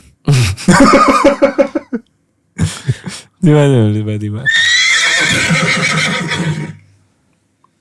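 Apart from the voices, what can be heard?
horse neighing sound in a video hook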